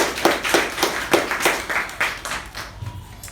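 Audience at a speaking club meeting applauds a speaker and evaluator: rhythmic, fairly close hand clapping with distinct individual claps, steady for a few seconds before fading out.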